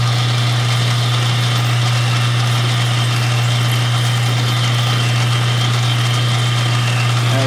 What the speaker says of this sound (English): got the boring bar on there, and you know, it's doing its job